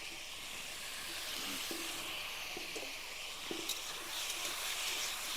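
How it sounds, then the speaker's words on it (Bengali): A ground coriander and cumin spice paste hitting chopped cucumber in a hot pan, giving a steady, broad hiss of sizzling with a few faint knocks and scrapes of a utensil. "সেই মশলাটি দিয়ে দেবো এবার শসার মধ্যে।"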